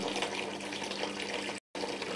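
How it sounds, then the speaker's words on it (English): Polluted liquid mixture poured into a container ahead of nanocarbon filtration: a continuous broadband splashing gush, fairly quiet, with a short break near the end before the pour resumes. "Now we pour this horrible mix into the container."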